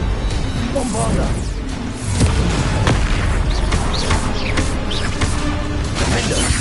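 Bombarda explosion spell cast in Hogwarts Legacy, a loud blast set in a dense wall of game combat noise with booms, crashes and whooshes running throughout.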